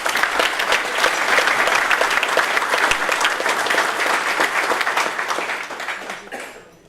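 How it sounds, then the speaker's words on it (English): A large crowd at a hall of fame dinner applauds steadily and loudly, the clapping holding strong for several seconds before tapering off near the end. "please give them a round of applause"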